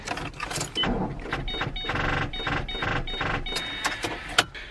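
A car engine fails to start, with a repeated cranking whir in uneven bursts, close and moderately loud, without catching.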